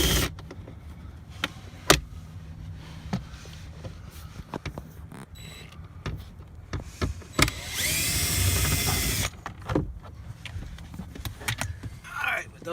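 A power drill whirs briefly to back screws out of a car dashboard during a factory navigation upgrade, a short buzzing burst among clicks, taps and handling noises, with someone talking.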